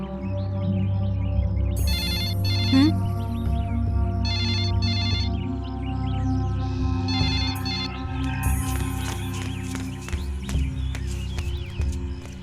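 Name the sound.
telephone ringing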